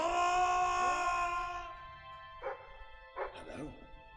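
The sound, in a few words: dog barking in video game Fable 3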